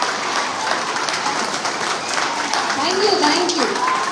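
A school audience claps at the Creative Talent Hunt 2.0 award show at Tejawsi Public School, Naugachia: steady, dense applause of a sizable crowd lasting throughout, with voices and a few whistles or tones mixed in.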